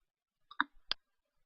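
A computer mouse clicks to confirm an OK button in embroidery font software, a few crisp close clicks, a quick double tap followed by a single click, against near silence.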